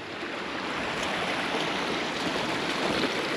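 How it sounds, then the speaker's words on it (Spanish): Water of the Cebollón river rushes through a rocky gorge near waterfalls, a dense, steady broadband roar that is loud and close and continues unbroken, with no voices. "hemos entrado ya aquí al río Cebollón"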